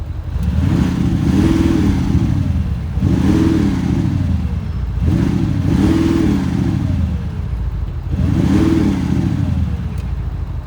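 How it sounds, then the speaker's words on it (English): Audi SQ7 4.0 TDI Quattro diesel engine accelerating on a road test drive, four loud rising surges in steady rhythm with gear changes between, close and continuous inside the cabin. "I'm gonna jump into the car, take it for a quick ride, and do some test runs"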